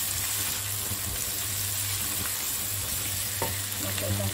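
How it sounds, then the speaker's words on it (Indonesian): Fried chili being sautéed with garlic and shallots in a pan for a fish head curry, giving a steady close sizzle with occasional stirring scrapes and no talking. "bila bawang putih dengan bawang merah je dah naik wangi, kita masukkan cili goreng ya guys"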